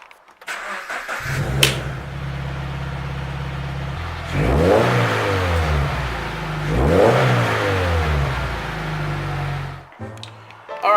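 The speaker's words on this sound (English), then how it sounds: "let's get that cold start" Subaru BRZ engine cold start: a cranking catch, then a loud close idle with two rising revs that fall back, before the engine settles and cuts off.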